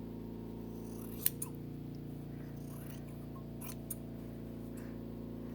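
Scissors snip embroidery thread in a few sharp, quiet clicks, one crisp cut followed by a couple of lighter snips over a low steady background hum.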